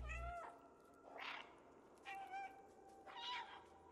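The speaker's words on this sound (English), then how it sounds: "You can just walk up to other cats and meow at them." Several synthetic cat meows from the video game Stray ring out one after another, fairly faint, with short pauses between them over a quiet background.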